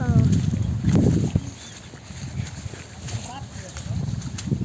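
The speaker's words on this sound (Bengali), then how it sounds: "এই যে নৌকা দেখ কেমন শব্দ দেখছ" A village boat moves through rising floodwater, giving off a rhythmic series of knocking, splashing strokes at close range, running under people talking.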